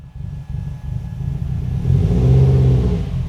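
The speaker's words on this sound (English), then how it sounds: "So let's go ahead and take it for a drive." A Subaru Forester pulls away as its engine revs up from a low idle rumble into a rising, steady drive, close and fairly loud.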